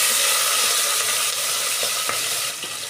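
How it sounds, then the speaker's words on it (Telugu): Whole spices such as cardamom and cloves, green chilli, onion and tomato fry in a pan with a dense, continuous sizzle and some stirring, loud and close throughout. "మసాలా మంచిగా ఫ్రై చేసుకున్నాక పచ్చిమిర్చి ఆనియన్ టమాటా"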